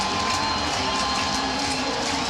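A Virginia football stadium crowd roars continuously during a Virginia Tech versus Virginia game, a dense, steady wall of cheering voices.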